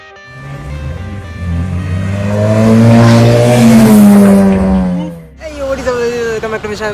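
A modified Maruti Baleno engine and exhaust revs up loud and close, the pitch climbing to a roaring peak before dropping off, then settling into a rumbling idle.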